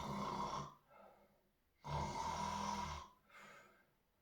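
A voice imitates loud snoring: two long rasping inhales, each followed by a softer, airy exhale.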